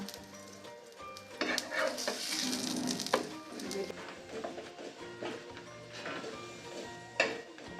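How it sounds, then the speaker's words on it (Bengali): A spinach paratha fries in oil in a pan with a soft, steady sizzle, punctuated by a few sharp spatula taps and scrapes. "পরোটাটা দু পিঠ হালকা ভাজা হয়ে গেছে এবার আমি তেল দিয়ে পরোটাটা ভালো করে ভেজে নেব"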